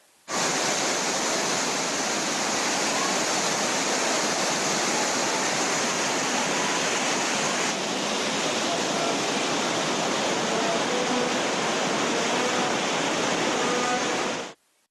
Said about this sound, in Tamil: காட்டாற்று கரை புரண்டு ஓடுவதால் அமனலிங்கேஸ்வரர் கோவில் முழுவதும் வெள்ள நீரால் சூழப்பட்டுள்ளது